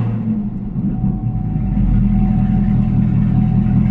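A Chevrolet Camaro on a warm start, its Corsa Extreme exhaust holding a loud, steady low rumble close by that swells slightly partway through, with no talking.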